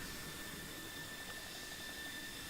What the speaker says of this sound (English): Oh, is that a helicopter we can hear over there?